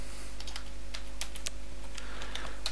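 Computer keyboard typing in steady bursts of clicks with short pauses, close and fairly quiet against a constant low electrical hum, with no voices.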